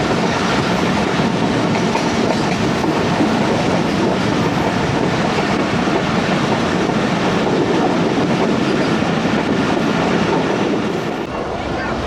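A crowded Allama Iqbal Express passenger train runs along the tracks near Hallok, with steady loud rumbling, rail clatter and wind rushing past an open door throughout, easing slightly at the very end.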